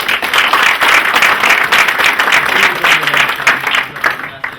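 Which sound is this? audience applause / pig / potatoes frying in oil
audience applause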